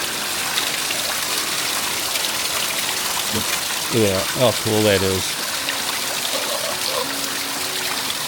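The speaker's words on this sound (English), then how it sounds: "just give me 1 second and this waterfall is going to turn on" Steady rushing water from an indoor waterfall in an office pours continuously from start to finish, with a person briefly speaking over the flow midway.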